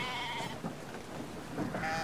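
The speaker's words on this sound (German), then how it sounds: "jetzt läuft das Schaf da drüben wieder raus" Sheep bleating in the video game Brothers: A Tale of Two Sons, a couple of wavering, nasal bleats over a soft ambient game background, moderately close and fairly quiet.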